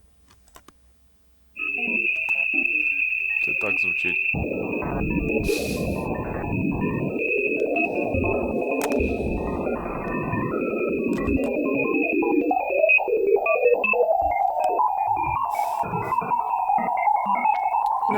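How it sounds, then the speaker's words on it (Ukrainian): A steady high whistling tone runs above a dense, warbling electronic hiss and chirping texture that shifts and rises, eerie and continuous, with a brief spoken line at the start; transformed NASA probe recording of the atmosphere of Jupiter's moon Ganymede. "космічний зонд НАСА записав звук атмосфери супутника Юпітера"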